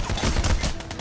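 Rapid gunfire in the heist shooter Payday: The Heist, a dense burst of overlapping shots lasting about a second, loud and close.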